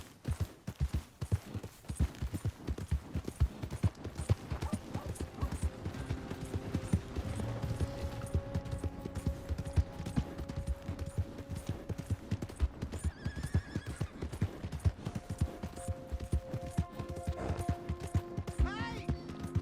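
Horse hooves clip-clop steadily alongside a horse's whinny in the Red Dead Redemption 2 video game, set among busy game sounds, music and occasional voices.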